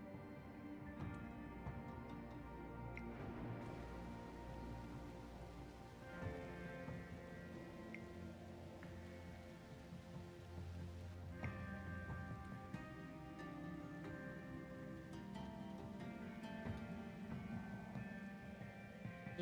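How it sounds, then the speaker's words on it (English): Steady rain falls in the Universim city-building game, a continuous wash of droplets under layered in-game music and ambient tones, with no voices. "Just having some rain while we wait for..."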